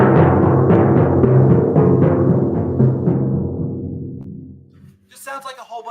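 Even eighth-note percussion passage in 6/8 with a steady crescendo, played on pitched mallet instruments with a ringing, sustained tone that fades out before a voice begins speaking at the end.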